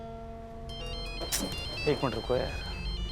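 A phone ringtone melody plays steadily in the background while a person speaks briefly over it.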